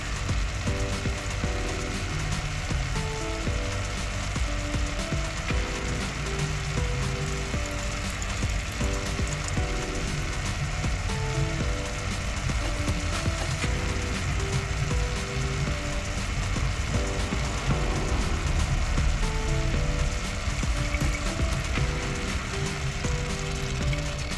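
A hand pump fills a GMC/Chevy transfer case with fluid, giving a steady, loud mechanical clatter and whir with repeating ratchet-like clicks throughout.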